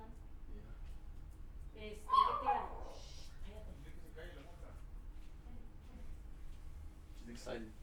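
A pet dog gives an excited whimper and a short yip nearby, faint and brief, while someone talks over a low background hum.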